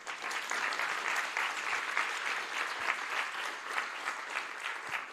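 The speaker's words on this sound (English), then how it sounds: "So first I think we say thank you to you by an applaud." Audience applause after an architecture lecture, a steady dense wash of many hands clapping, moderately distant and sustained for several seconds with no talking over it.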